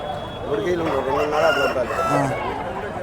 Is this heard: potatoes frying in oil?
no